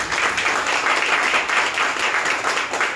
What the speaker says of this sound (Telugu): కొట్టాలి చప్పట్లు వేసే ఒకసారి